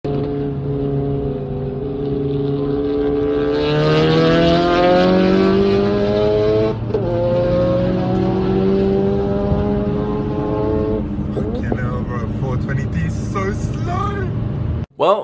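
A Nissan S15 with an SR20 engine races a Lamborghini, with loud engine tones climbing steadily in pitch through the gears, a brief shift break, and another rising pull near the end.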